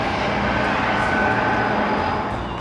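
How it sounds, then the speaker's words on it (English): A train passes near Interstate 8 in Yuma, Arizona, giving a loud, steady rumbling roar that holds evenly for the whole stretch with no voices over it. "a train, one of the many trains that passes through here"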